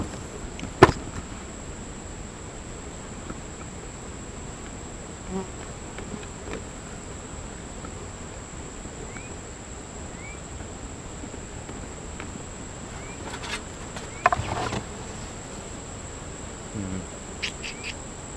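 Honeybees in a bee yard during a honey harvest, giving a faint, steady background drone with a few brief louder buzzes passing close, and no talking.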